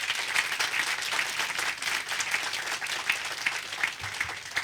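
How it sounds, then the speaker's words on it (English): Sustained audience applause at a Nelson Mandela Children's Fund event, dense steady clapping from a crowd filling the room without a break for several seconds. "Can you give her a round of applause for that?"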